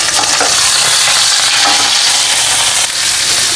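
Loud, continuous sizzling of garlic, cumin and curry leaves frying in hot oil in a kadhai, close and steady throughout without any voices.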